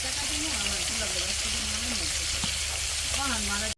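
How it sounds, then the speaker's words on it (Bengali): Curry base of onion, turmeric and chili sautéing in a pan, a steady close frying sizzle throughout with faint voices in the background. "হলো তরকারি কষাই নিতেছি আমি হলুদ মরিচ পেঁয়াজ দিয়ে দিচ্ছি"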